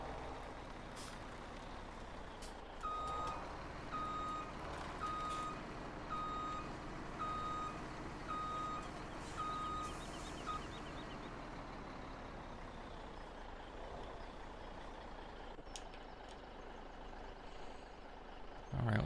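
A truck in Farming Simulator 17 starts up and reverses, its steady backup beeper repeating at an even pace over a low engine rumble, with a hiss of air brakes near the start and end.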